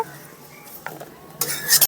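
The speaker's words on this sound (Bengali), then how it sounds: "আলুটাকে লাল করে ভেজে নিয়েছি, এখন তুলে নিচ্ছি।" Fried potatoes, browned in oil, are lifted out of a pan with a utensil: a few light metallic clinks and scrapes, then a louder burst of scraping and sizzle at the end.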